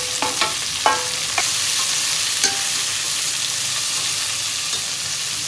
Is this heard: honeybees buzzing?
no